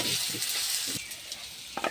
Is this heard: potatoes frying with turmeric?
yes